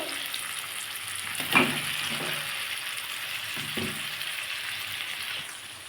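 Broccoli and potatoes sizzling and frying in a pan, a steady crackling hiss with a few clinks and stirring sounds, nobody talking.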